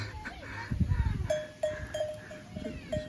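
Goats bleating nearby, several short wavering calls scattered over a few seconds among shuffling and light movement noise, the animals sounding disturbed; no speech.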